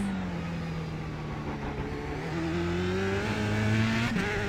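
A race car in iRacing brakes hard into a bumpy corner at Zolder and drops to second gear, its loud engine tone sliding and then rising again as revs climb, with a faint tire squeal.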